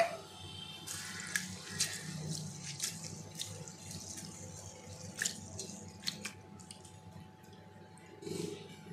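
Lentils and rice are rinsed by hand in a bowl of water for dosa batter, giving soft squishy sloshing and splashes with small drips, quiet and close, with no talking.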